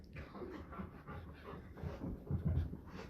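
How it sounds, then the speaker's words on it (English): A dog pants and breathes quickly while running around a living room, with soft whimpers mixed in, faint and close in a quiet room. "My dog's just running around the living room."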